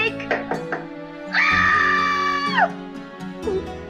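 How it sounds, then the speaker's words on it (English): A woman's long, loud scream from a character in a Nancy Drew mystery game set at Blackmoor Manor, one sustained wail of over a second amid knocking and background game sounds. "I do remember Mrs. Drake's distinct scream now as you keep banging and banging."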